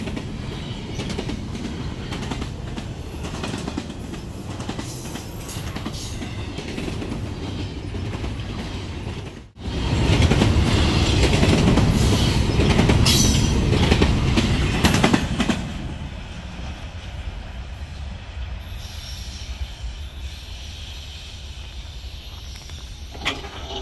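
Freight train carrying intermodal containers rolling past, a steady loud rumble with clickety-clack of wheels that swells sharply in the middle stretch, then eases to a lower, continuous roar.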